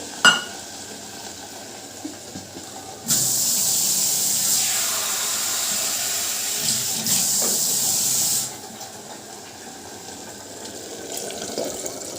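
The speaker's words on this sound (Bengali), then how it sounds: "চলো এবার এবার জল ঢেলে দেবো জল দিয়ে দেবো আর একটু জল লাগবে" Water is poured into a cooking pot for a curry, with a steady hissing stream lasting about five seconds, loud and close, then stopping, with faint clinks before and after.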